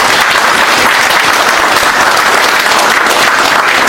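Loud, dense applause from an audience at a civic movement's founding general meeting, welcoming the steering committee chairman; continuous close clapping without a break.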